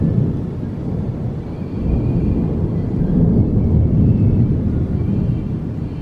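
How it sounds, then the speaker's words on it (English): Deep, sustained thunder rolls and rumbles continuously at a theme park under a storm that brings no rain, loud and broad without sharp cracks. "We had all that thunder, made such a big fuss coming in, and we got no rain out of it."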